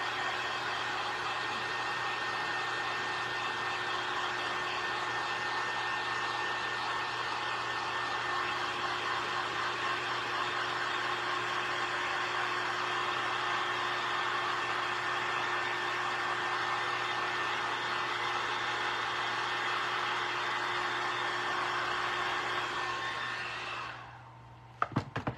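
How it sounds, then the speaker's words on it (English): A dryer blows steadily on a DIY St. Patrick's Day shamrock craft, a constant whooshing hum at moderate level for about 24 seconds before cutting off, followed by a few brief clicks. "Let me finish drying this shamrock."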